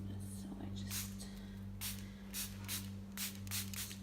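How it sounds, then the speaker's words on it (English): Rubbing alcohol sprayed from a bottle onto a rhinestone-covered dance costume, heard as several short hissing spritzes spaced a second or so apart over a steady low hum, close and fairly quiet. "spray it, and this doesn't destroy the rhinestones or the fabric."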